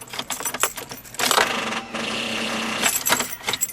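A 2001 Chevy Cavalier 2.2L with a bad alternator fails to crank when the key is turned, giving irregular clicking and rattling followed by a sustained, fairly loud mechanical whir, with no talk over it.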